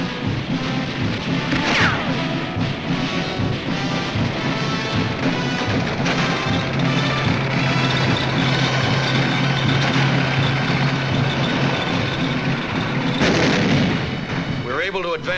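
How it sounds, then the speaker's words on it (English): WWII tanks coming ashore and grinding inland at Iwo Jima, a loud rumbling engine drone mixed with heavy booms and crashes of battle, continuous and dense, with a narrator's voice over the top. "Our tanks come ashore and grind inland."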